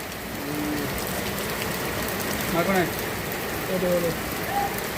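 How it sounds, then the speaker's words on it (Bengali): Steady rain falls on pooled water and surfaces outdoors, a constant hiss with a few bird-like chirps and faint voices in the background. "এই যে এখন বৃষ্টি হইতেছে, প্রথম এটা পানি জমে গেছে"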